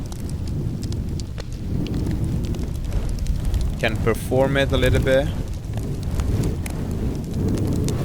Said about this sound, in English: Let's actually put something more like a bonfire.